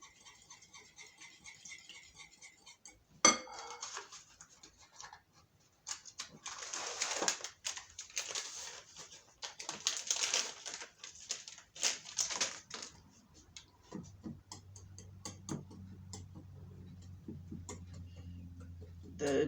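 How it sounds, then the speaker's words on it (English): Cornbread pudding casserole batter of Jiffy cornbread mix with salt and pepper being stirred in a bowl, giving soft scraping and tapping strokes in uneven bursts, fairly quiet, with no talking. "Just going to mix that all together"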